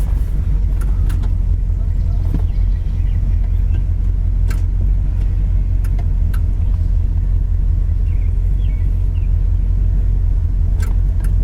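A 1967 Cadillac convertible engine idles in a steady, low, continuous rumble, close and even, with a few faint clicks and small sounds over it.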